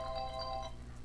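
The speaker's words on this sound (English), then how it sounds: "Oh, that was my phone" Mobile phone ringtone chiming faintly in a room, a short melodic tone repeating under a low background hum.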